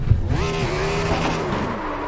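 Race car tires squeal and skid through a donut in a racing simulator game, a sustained rising-and-falling screech over engine drone, loud and close, lasting the whole moment without talk.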